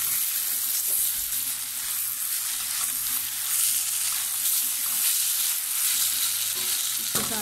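Chilli garlic hakka noodles stir-frying with boiled chicken in a pan over high flame, a steady loud sizzle with scraping stirs, continuous and close, no talking.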